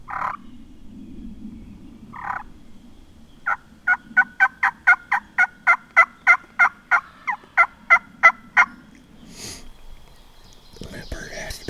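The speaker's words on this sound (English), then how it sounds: "I started backing up and calling just enough to keep the bird gobbling" A wild turkey gobbler gobbles in short outdoor bursts, with a fast, evenly spaced run of loud turkey calls between them and quiet whispering near the end.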